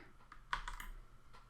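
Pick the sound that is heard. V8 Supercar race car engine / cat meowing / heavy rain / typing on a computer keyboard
typing on a computer keyboard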